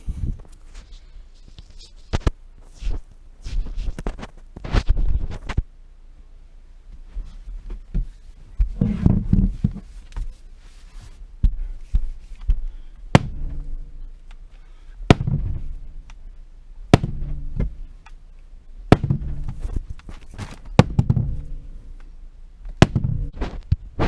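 Repeated heavy blows struck against the front post of an unlevel off-grid tiny cabin in Alaska to lower its wall, loud sharp thuds at irregular intervals, close by and without talk.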